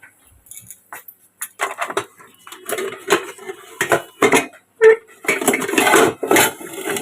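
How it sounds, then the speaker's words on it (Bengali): Metal clatter of a cooking pot being covered with its lid in a home kitchen, the pot holding a dish finished with mustard oil and green chilli and set to steam; a series of sharp clinks and knocks, close and fairly loud, with no talking. "চাপা দিয়ে দিলাম, হতে থাকুক স্টিমে।"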